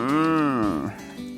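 A single drawn-out moo from a cow in a field near the Irish cliffs, loud and fairly close, falling off after about a second.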